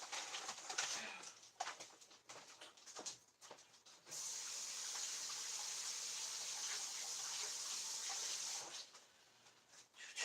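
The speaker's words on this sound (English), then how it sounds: "I'm just going to rinse these off" Carrots rinsed under a running kitchen tap: a steady broadband water rush flows for several seconds in the middle, preceded by splashy, uneven trickles and clatter, with no voices.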